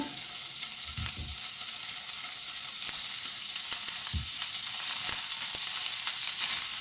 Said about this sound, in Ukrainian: У розігріту сковорідку додаю ось цю грудинку.